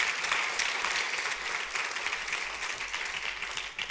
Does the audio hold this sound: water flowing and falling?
no